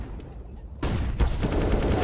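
Loud burst of gunfire in Counter-Strike: Global Offensive on the Dust 2 map at a PGL Major Stockholm 2021 match, a sudden dense volley of rifle shots erupting after a quieter lead-in and sustaining close and heavy to the end.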